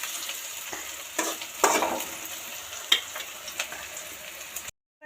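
Thinly cut potato fries in a pan with onion and dried chilli, a close steady sizzle punctuated by sharp scrapes and knocks of stirring, then cutting off abruptly into silence.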